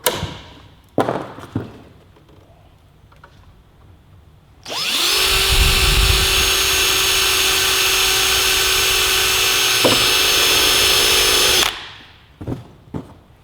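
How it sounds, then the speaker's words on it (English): A power drill bores through new motorcycle bodywork for Dzus fasteners, spinning up with a rising whine and then holding a steady, loud, high-pitched drone for about seven seconds before stopping, with light taps and handling noises before and after. "and drill through."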